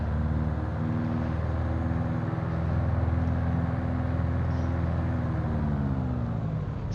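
A simulated Piper PA-44 Seminole twin-engine plane in Flight Simulator 2020 runs its engines up to 2000 RPM, a loud, steady droning roar with throbbing low harmonics holding throughout.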